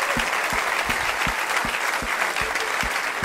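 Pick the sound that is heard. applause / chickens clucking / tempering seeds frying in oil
applause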